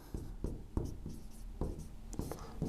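Chalk or marker scratching on a classroom board during a Hindi grammar lesson, a string of short, close strokes and taps in uneven rhythm, with no speech.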